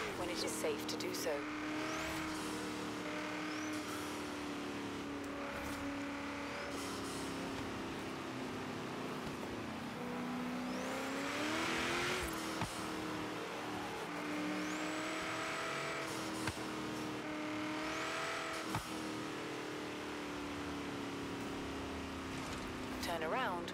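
Forza Horizon 3 cars drifting online alongside other players, engines droning steadily throughout with rising revs and several high tire squeals cutting in, close and continuous, with a voice talking over them.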